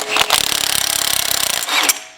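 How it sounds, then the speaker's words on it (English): A pneumatic impact wrench on setting 4 hammers at an axle hub nut on a Dana 80 axle in a Nissan Patrol build, a loud rapid rattling burst of about a second and a half framed by air hiss. "So a good old trusty rattle gun on 4."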